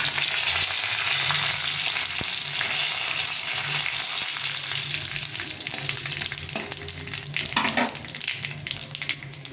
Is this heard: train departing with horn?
no